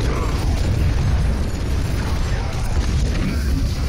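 A grenade explosion in the video game Overwatch thumps out over a dense, noisy team fight, a loud low boom blending into continuous battle clatter.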